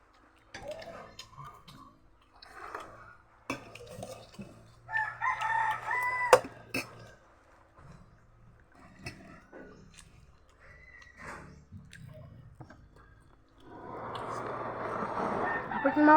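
Repeated rooster crowing from a nearby yard amid clucking fowl and a little clatter, ending under a steady rushing hiss.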